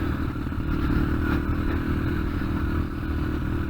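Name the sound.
Yamaha TTR125 dirt bike engine running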